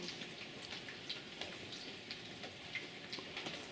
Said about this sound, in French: bruits que fait la pluie